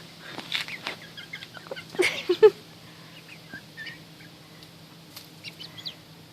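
Backyard chickens cluck softly nearby in a series of short, scattered calls, with a quiet background hum and no talk.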